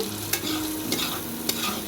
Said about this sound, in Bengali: আর পেঁয়াজ আর এই কাঁচা লঙ্কাটা একটু ভালো করে ভেজে নেব।